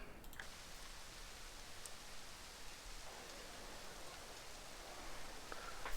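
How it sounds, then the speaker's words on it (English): Soft, steady rain hiss in a racing video game fills the background at low volume, with a few faint ticks and taps scattered through it. "it is nice and rainy"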